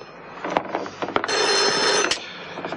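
A telephone rings with a loud, sustained electronic bell trill lasting about a second, preceded by faint rustling and clicks in a quiet room.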